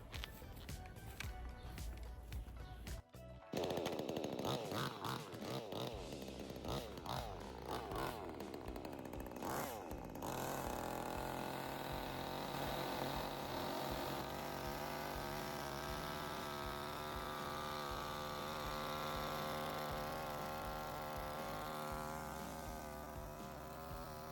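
A VEVOR chainsaw is pulled to start, then roars into a loud, steady high-pitched running buzz that holds for about twenty seconds, close to the microphone, with no talking.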